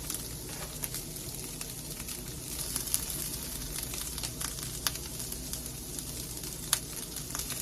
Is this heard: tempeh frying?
yes